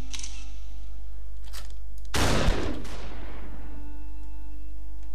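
Single loud gunshot blast in the slow-motion shooter game SuperHot, a sharp crack followed by a long fading rumble over a steady low game hum.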